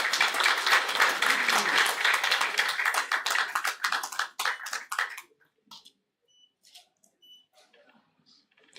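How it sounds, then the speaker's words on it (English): A seminar audience applauds in a thick, loud round of clapping that thins into scattered individual claps and dies away to near silence in the second half. "Can we have a round of applause?"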